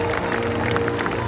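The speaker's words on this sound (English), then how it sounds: "Now let's give both Makani and Orkid a great big round of applause for all the incredible learning that they just did." SeaWorld San Diego stadium audience clapping for the orcas Makani and Orkid during a show, a dense, even burst of applause with crowd noise mixed in.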